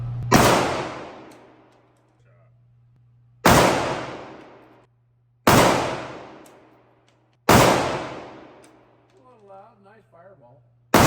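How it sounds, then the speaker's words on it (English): A KelTec PR57 pistol fires four loud, sharp shots at irregular intervals of about two seconds, each followed by a long ringing decay outdoors, with a steady low hum underneath and brief talk after the last shot. "First shot."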